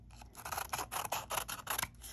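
Scissors cutting a paper sheep head out of a sheet in a first-grade art project, a quick series of crisp close snips and rustles with no talking.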